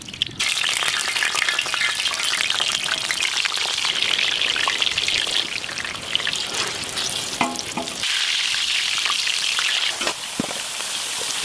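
Oil sizzles steadily in a pan in a village outdoor kitchen while maqluba is being cooked, a loud continuous hiss and crackle running throughout, with a few brief clinks and stirring sounds near the end.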